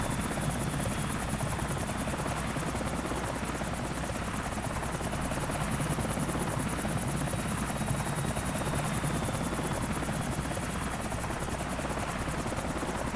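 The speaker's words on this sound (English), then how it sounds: "the helicopter is behaving how it should" A helicopter in the GTA IV video game, heard from a dashcam mod, its rotor and engine drone holding a constant, loud, even hum with a faint high whine throughout; no talking.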